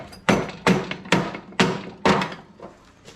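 The back of a hammer strikes a Honda HS928 snowblower gearcase five times at a steady rhythm. Each blow is a loud, close metallic thunk that rings briefly, with a softer tap at the end.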